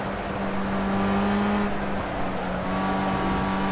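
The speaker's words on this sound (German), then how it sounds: "Wir werden jetzt ganz langsam in die Box fahren." A race car in Project Cars rolls slowly into the pit box, its engine a steady droning hum with a constant tonal whine and no revving, heard close and alone.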